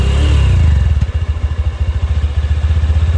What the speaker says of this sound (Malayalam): എഞ്ചിൻ സൈഡിൽ നിന്നാണ് കൂടുതൽ സൗണ്ട് വരുന്നത്. പിസ്റ്റലും കാര്യങ്ങളൊക്കെ വർക്ക് ചെയ്യുന്നതിൻ്റെ സൗണ്ട്.